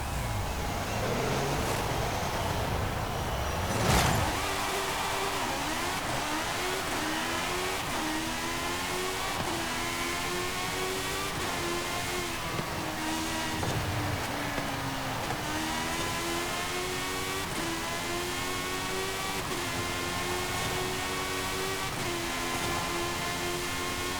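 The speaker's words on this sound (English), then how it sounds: "let's listen to the engine for a bit and talk about it some more" The engine of a 2012 Hot Wheels Bad to the Blade in Forza Horizon 5 revs and rises repeatedly through gear changes, a steady, moderately loud drone with a brief thump early on and no talk.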